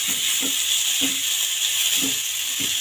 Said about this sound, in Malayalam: നമുക്ക് ലേശം ഒന്ന് ഇളക്കി കൊടുക്കാം